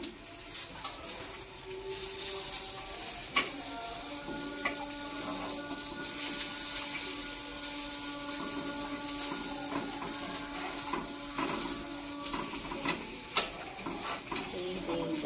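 Rava appe sizzle and crackle steadily in an appe pan close by while being turned over to cook the other side. Light clicks and taps of the flipping tool sound over the continuous frying.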